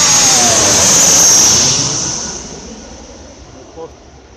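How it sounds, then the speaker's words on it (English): A jet airplane passes close overhead along the Potomac River with a loud whining roar that peaks early, then fades steadily into the distance. "Here comes another plane coming in."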